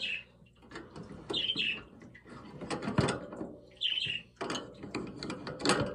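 Pet parakeets chirp in their cage at home, with bright, scattered tweets breaking through a busy layer of nearby clicking and rattling from cage hardware being handled.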